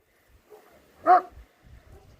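A single sharp bark from a shepherd's herd guard dog rings out mid-clip at moderate distance, with only faint scuffs and rustling before and after in an otherwise quiet outdoor setting.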